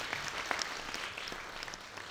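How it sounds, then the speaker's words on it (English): Soft, fairly distant applause from a church gathering crowd, a continuous patter of many hands clapping at low level with a few individual claps poking through. "But shall we give Leon a massive round of applause?"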